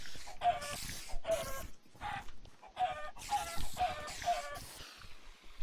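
A chicken clucks repeatedly in the Minecraft modpack TPPI, with bursts of short, nasal clucks in an irregular rhythm, fairly close and clear with brief pauses between bursts.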